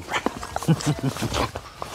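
A dog in a hotel room gives a few short barks and yips, close by and mixed in with people talking and laughing.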